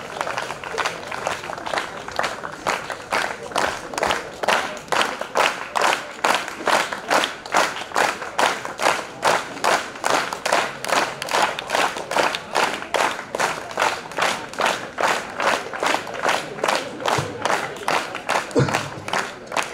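An audience at a book launch during a school annual function claps in sustained, rhythmic applause. The loud, steady beat continues for the whole stretch, close and evenly paced.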